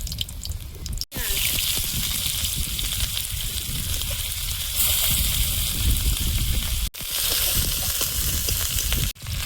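Dried red chillies frying in a pan of hot oil give a steady, loud sizzle that runs throughout, broken by a few brief drops in sound.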